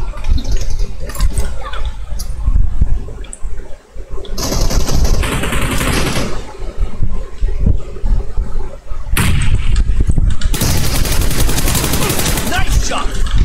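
Gunshots ring out in PUBG Mobile, loud bursts of firing that come and go with sharp cracks and harsh bursts of noise, under a player's occasional talk.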